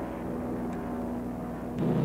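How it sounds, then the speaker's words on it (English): A C-47 transport plane lands on a freshly repaired wartime airstrip, its piston engines giving a steady, continuous drone at moderate distance that swells slightly louder near the end. "A C-47 lands on a newly repaired field."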